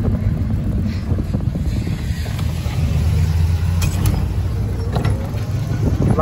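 A 42-volt Western Elegante electric golf cart drives along with a steady low whir and rumble, mixed with wind buffeting and a few light rattles.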